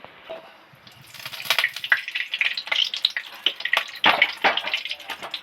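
Oil poured into a hot wok sizzles and spits, starting quiet, then crackling loudly in irregular bursts close by.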